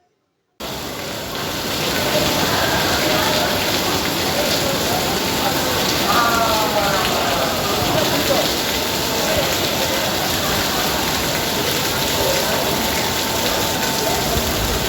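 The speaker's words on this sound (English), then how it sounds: "This is Terminal 1C. That's how it's raining. It's leaking all over." Rain pours steadily through a leaking roof inside Terminal 1C of an airport, a dense continuous rush and splatter that starts abruptly and stays loud throughout, with a voice speaking faintly under the water noise.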